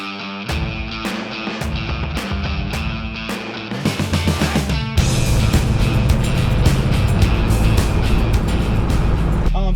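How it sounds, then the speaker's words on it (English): A car spins donuts on gravel, its engine roaring loud and close as revs climb and hold steady, with a rough continuous rumble and grit noise that intensifies midway. "I'm doing a donut."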